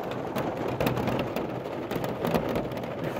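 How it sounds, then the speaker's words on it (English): Heavy storm rain with big raindrops pours steadily outdoors at an RV campsite, a dense continuous hiss with scattered louder splats and faint low rumbles, no voices. "They're like big raindrops."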